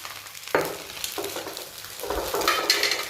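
Chicken schezwan fried rice is stir-fried with sauces in a hot pan, giving a steady sizzle with a few sharp scrapes and clatters of the spatula against the pan.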